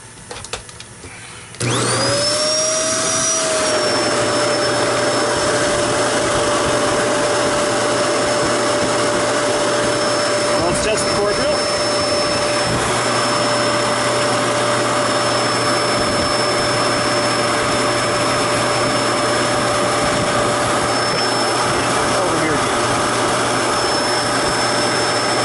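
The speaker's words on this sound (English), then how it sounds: "and this is going to be a real loud vacuum." A Kenmore canister vacuum cleaner switches on and runs loud and steady, settling quickly into a continuous whine with a high tonal hum that holds nearby for over twenty seconds.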